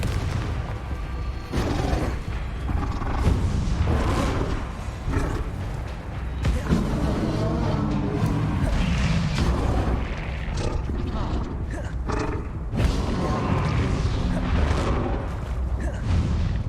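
Confringo explosive spell blasts in the Hogwarts Legacy video game go off as repeated booming bursts amid a chaotic, loud battle of spell impacts and creature roars, with shouting voices woven through.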